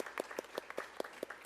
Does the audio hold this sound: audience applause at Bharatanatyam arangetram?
yes